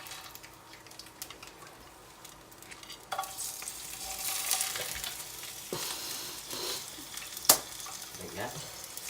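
Tiger prawns frying in a larger pan, a steady sizzle rising after a few seconds with stirring scrapes and a sharp clatter near the end, close and moderately loud.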